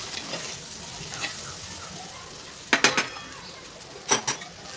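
Gathiya and okra curry being mixed in a pan with spices, with a few distinct metal spoon clinks and scrapes against the pan over a quiet kitchen background.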